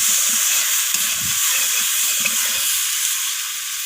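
Fried potatoes sizzle steadily in hot oil while being stir-fried into a spice masala for a kohlrabi and bhetki fish-bone dish, with a broad continuous hiss and occasional low scraping knocks of the spatula.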